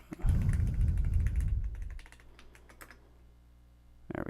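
Fast clicking on a computer keyboard while an email and password are entered, close and steady for about two seconds, then sparse individual key taps over a low background hum.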